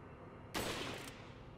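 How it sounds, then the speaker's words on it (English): A single sniper rifle shot in Resident Evil 4, one sharp loud crack that rings briefly and then fades, standing out above quiet game ambience. "Let's try out my brand spanking new sniper rifle."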